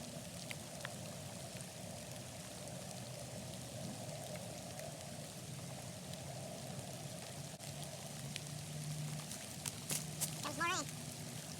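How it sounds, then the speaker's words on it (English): Rain falls outdoors in a steady, even hiss that fills the whole stretch without pause, with faint low murmurs and a few light knocks near the end. "There's more rain"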